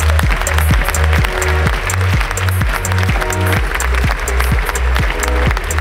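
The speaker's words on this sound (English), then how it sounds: "Let's have a big round of applause for the champions." Applause from the audience at a livestreamed startup pitch event, a dense and sustained roar of many hands clapping, loud and continuous, with a rhythmic thump beneath it.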